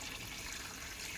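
Water runs steadily from an open tap, being wasted, as a constant close hiss with no voices.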